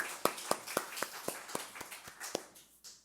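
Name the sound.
church congregation applauding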